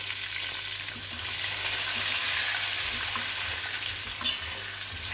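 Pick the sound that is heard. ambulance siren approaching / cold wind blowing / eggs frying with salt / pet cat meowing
eggs frying with salt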